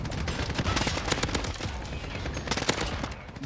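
Rapid bursts of AN-94 rifle fire in a first-person shooter video game, sharp cracks repeating in quick strings with brief pauses, loud and close throughout.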